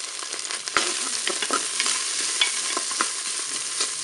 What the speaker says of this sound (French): je vais faire revenir mon poireau dans la cuve du couteau